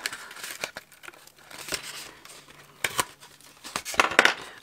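Crinkly tearing and crackling as the paper backing is peeled off a strip of tear tape in a card craft project, in short close bursts with quiet gaps between.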